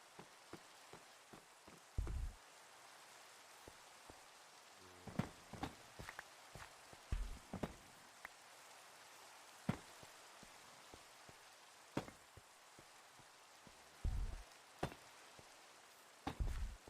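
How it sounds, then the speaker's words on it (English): Rain falls outdoors by a barracks storage shed, heard as a soft steady patter with scattered louder drops and occasional low thumps, faint and continuous with no talking. "I think this might be the first time it's rained on stream today."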